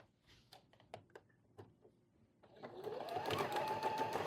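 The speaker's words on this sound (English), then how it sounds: "And then just continue to sew down the side of your quilt." A sewing machine stitches denim binding onto a quilt; after a few quiet clicks and handling sounds, the motor starts up and runs with a steady, close whirring stitch rhythm.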